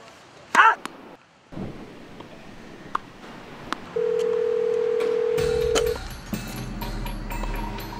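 Phone tones during a call: a short burst of dialing beeps, then a steady sustained tone lasting about two seconds, followed by line noise and faint clicks, with quiet background sounds between.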